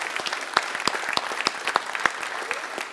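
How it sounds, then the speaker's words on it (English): Conference audience clapping for a presenter, a short, lively round of applause with distinct sharp claps standing out from the crowd, fairly close and without speech on top. "A round of applause."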